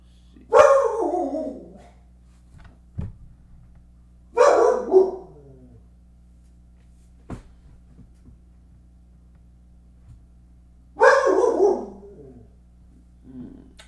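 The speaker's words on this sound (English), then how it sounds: "Stupid dogs." Three loud barks from a dog nearby, spaced several seconds apart, each trailing off with a rough, slightly growling tail, with faint low background hum and small knocks between them; no one speaks.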